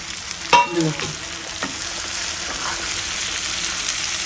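Finely chopped cabbage stirred and frying in a pan over medium heat, a steady close sizzle with a few clinks and scrapes of the spoon near the start.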